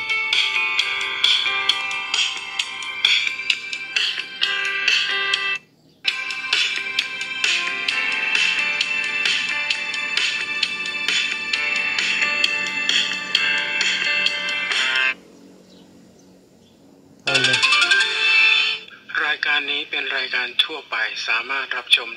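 Ringtone melody played at full volume through the loudspeaker of a Vivo Y15 smartphone, bright and continuous with a brief gap and a short final phrase, alone.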